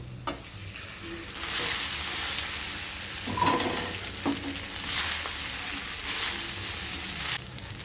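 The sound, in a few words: stirring rice into fried tempering and lentils in pan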